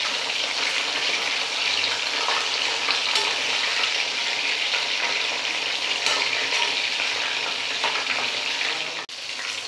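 Fish coated in masala fries in a pan, giving a loud, steady sizzle that runs unbroken throughout with no talking.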